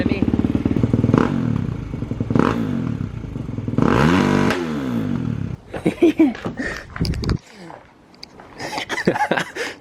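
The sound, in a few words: Kawasaki KX450X dirt bike revving with FMF 4.1 RCT exhaust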